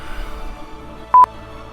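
Two quick telephone keypad tones sound in succession, clear and close, after a quiet stretch of faint room noise.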